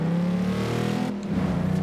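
A Mercedes G-Class engine revs in the racing game Forza Horizon 2, a loud droning growl with shifting pitch that briefly dips before surging again.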